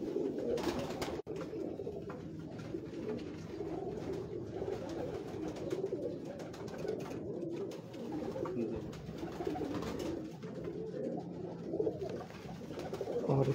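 Old pure-breed pigeons cooing softly and continuously, a low murmuring warble that carries on steadily with a few small knocks and rustles nearby.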